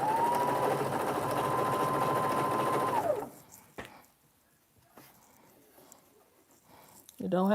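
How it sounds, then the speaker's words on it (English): A sewing machine stitches kitchen curtain fabric with a steady close motor whir for about three seconds, then stops, followed by quiet handling sounds and someone speaking. "sew this down."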